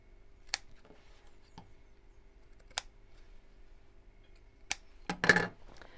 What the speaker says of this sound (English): I need to snip across the corners.